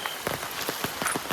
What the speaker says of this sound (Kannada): ನೋಡಿ ಮಳೆ ಬರ್ತಾ ಉಂಟು.